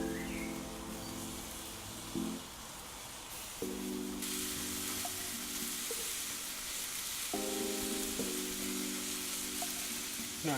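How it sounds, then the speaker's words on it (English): Chicken wings coated in mayo and rub sizzle on a Weber grill, a steady, close hiss of frying fat with a few scraping clinks as they are moved. "Can you hear that sizzle?"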